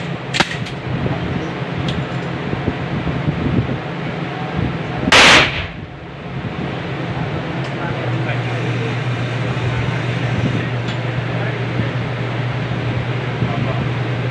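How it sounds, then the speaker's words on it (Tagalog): A shotgun fires once outdoors at a shooting lesson: a single loud, sharp blast stands out against steady background noise and engine hum, with no voices in the clip. "kung paano po pumutok ng shotgun"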